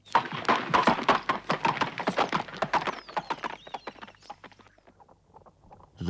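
A horse gallops in a storybook sound effect, with rapid, loud hoofbeats in a steady rhythm that slow and fade toward the end.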